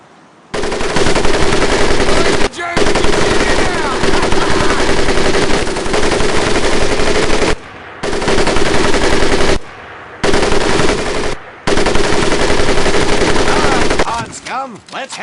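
Sustained bursts of .30-caliber machine gun fire in Medal of Honor: Pacific Assault, loud and close, in four long strings with short pauses between them and a faint tail at the end.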